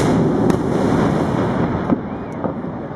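Fireworks fired from Clifton bridge for an Olympic torch event, heard from the firing position as a loud, continuous wind-buffeted rumble with a few sharp cracks breaking through.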